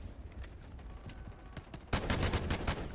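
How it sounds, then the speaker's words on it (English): Gunfire in the military shooter game Delta Force, a rapid rattle of repeated shots, quieter at first then louder and denser in the final second, with no talking. "Gosh, these guns really do have some recoil on them."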